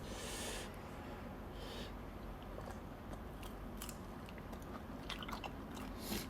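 Someone eats grilled shrimp with rich, fatty heads alongside spicy papaya salad, making soft, close biting and crunching sounds at a low, quiet level against a faint background hiss.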